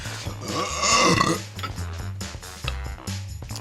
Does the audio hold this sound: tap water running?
no